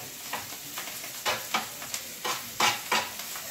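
Mushrooms frying on a hot griddle beside burger buns for a mushroom Swiss hamburger, a steady low sizzle broken by several louder scraping, stirring bursts of a spatula.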